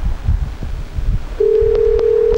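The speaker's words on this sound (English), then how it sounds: "A beep." A steady telephone tone starts partway through and holds on a single pitch on a radio call-in line, loud and close, with a low throbbing rumble beneath it.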